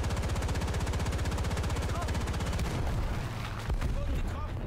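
Tank cannon fire and rapid automatic weapon bursts from War Thunder, a fast steady hammering of shots for over two seconds, then scattered booms and fainter shots with a distant whistle, all loud and dense.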